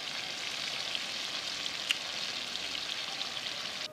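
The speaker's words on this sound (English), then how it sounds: "Now I'm going to get my chicken and I'm going to add it to my oil mixture" Chicken pieces fry in oil for a Jamaican brown stew chicken, giving a soft, even sizzling hiss with a single sharper pop in the middle.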